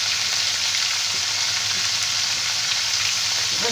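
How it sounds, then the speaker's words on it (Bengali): Vegetables fry in hot oil with green chillies, turmeric and salt, giving a steady, loud, continuous sizzle that holds without a break. "এবার একসাথে আমি সব ভালো করে ভেজে নেব।"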